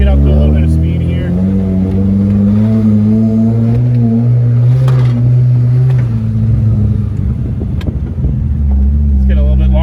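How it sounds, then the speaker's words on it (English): A Mazda Miata on aftermarket coilovers accelerates hard toward a side-to-side slalom, its engine revving loudly and climbing in pitch, dipping at a shift, with a driver talking over the close-up engine noise. "So let's get up to a little bit of speed here."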